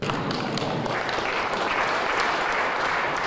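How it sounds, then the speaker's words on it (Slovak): Paralympic athletes clap together after an awkward moment at a ceremony with the prime minister, a dense, steady burst of applause that stays loud and even throughout. "celá situácia skončila potleskom všetkých paralympionikov"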